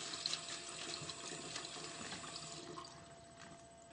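Water running from a tap into a container, a steady close rush and splash that softens slightly toward the end, with no voices.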